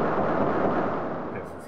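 Rapid gunfire in the video game Flashback, a dense, loud, unbroken roar of shots that holds steady for almost two seconds and eases slightly toward the end.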